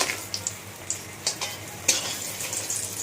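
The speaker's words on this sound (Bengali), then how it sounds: "এবার এই তেলের মধ্যে আমি কটা বড়ি ভেজে নেব, দিয়ে দেব বড়ি" Lentil bori dumplings frying in oil left over from frying fish. A steady moderate sizzle carries intermittent bright pops and spits, spaced roughly every half second, with a faint low hum underneath and no talking.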